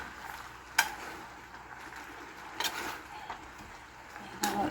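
Chicken pininyahang manok sizzles quietly in a pan while a utensil stirs it, with a few sharp scraping clinks against the pan over a soft, steady frying hiss.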